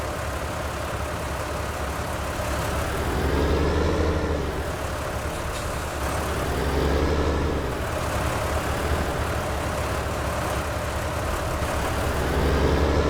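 Steady rumbling of a tractor engine in Farming Simulator 19, working with a loaded front bucket; a low, continuous drone that swells and eases in slow waves as the load changes.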